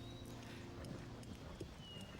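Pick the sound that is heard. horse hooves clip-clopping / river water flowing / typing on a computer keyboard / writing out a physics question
horse hooves clip-clopping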